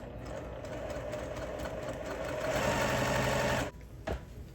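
A sewing machine stitches a quilt block unit for a tractor-themed quilt, running in a steady close whirring hum that rises slightly, then stops abruptly and gives way to a short clack of handling.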